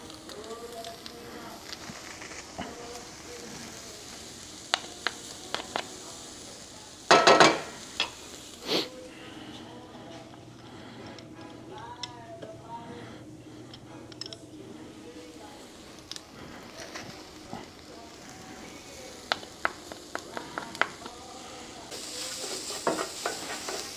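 Garlic and sausage frying in a pan while cooking baked penne, a steady low sizzle with occasional stirring clinks and scrapes throughout, fairly quiet and close, with a sharper burst of utensil noise early on.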